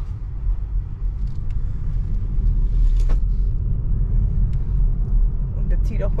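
A road vehicle accelerates, its engine rumbling low and steady as it pulls away, heard from inside while people talk over it.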